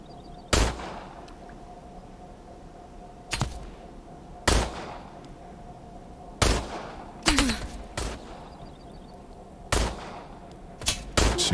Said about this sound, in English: let's see if we can snipe this guy